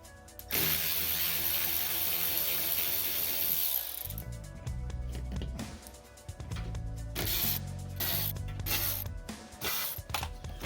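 A ratchet spins out the bolts holding the under-engine shield on a 2016 Ford Fusion. Close, steady clicking runs throughout the clip, broken by short bursts of metallic handling, with no talk.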